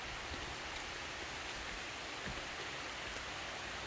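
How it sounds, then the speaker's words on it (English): Rain falls outside as an even, dense hiss that fills the whole stretch, with no pauses or voices and only faint drop-like flecks within the wash of sound. "Getting ready to get in the rain"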